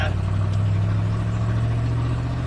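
A truck engine running with its exhaust fallen off, a deep, throaty, steady rumble that stays loud and constant throughout.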